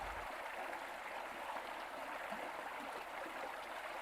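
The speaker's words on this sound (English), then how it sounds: "Have you heard the sound of the waterfall?" Steady rushing of flowing water from a waterfall, a faint, continuous wash with no voices.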